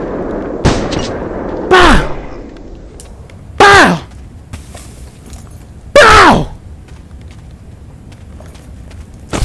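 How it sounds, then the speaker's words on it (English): Four loud, separate shots in a gory VR video game ring out at regular intervals, each with a sharp crack and a short echoing tail over a quiet background. "Go ahead, keep shooting."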